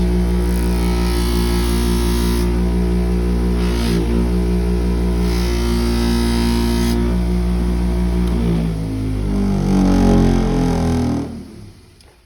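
A buffing wheel from an FFT sharpening kit, loaded with compound, runs against the back of a knife to remove the burr. It makes a loud, steady motor drone that winds down and stops at the end.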